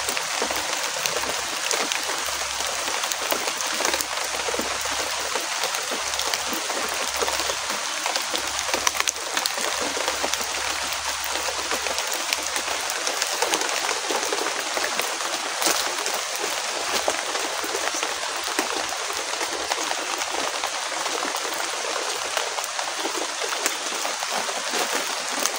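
Heavy rain pours in a dense, unbroken hiss, steady and loud throughout with no let-up and no voices.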